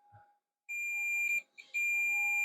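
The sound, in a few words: beep when testing a solder joint connection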